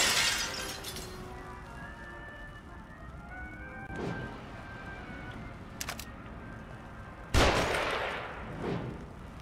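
Gunfire in the horror game The Evil Within: a few sharp, loud shots spaced several seconds apart, the last one the strongest, over a quiet droning ambience.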